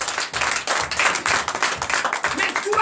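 A church congregation claps in acclamation during a Sunday service in Benin, the claps quick and rhythmic, mixed with voices throughout.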